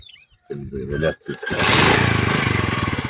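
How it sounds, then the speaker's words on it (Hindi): A motorcycle engine cranks in two short bursts, then catches and settles into a loud, close, steady idle rumble. "हुण निकले पे मोटरसाइकिल स्टार्ट करूँ असें"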